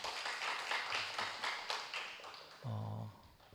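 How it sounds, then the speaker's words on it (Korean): A small gathering at a Thursday church meeting gives a faint round of clapping, individual claps distinct, before a voice takes over near the end. "우리 형만 형님께 다시 한번 큰 박수 부탁드리겠습니다"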